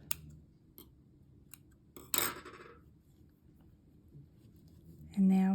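Scissors snip through crochet yarn in one sharp, brief cut near the middle, amid quiet handling clicks, with a voice starting at the end.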